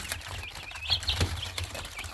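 Chickens cluck in short, scattered calls close by on a Saturday morning, with a steady low rumble underneath and a few brighter chirps mixed in.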